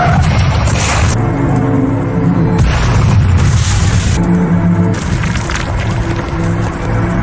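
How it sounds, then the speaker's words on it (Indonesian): A car explodes into flames in an action film scene, a loud, sustained roaring blast with bursts of crackling debris and rumbling fire filling the entire stretch. "Mobil pun kemudian meledak dalam kobaran api."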